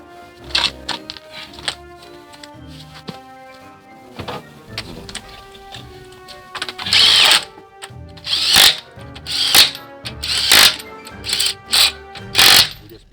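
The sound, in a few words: impact gun tightening lug nuts on Cadillac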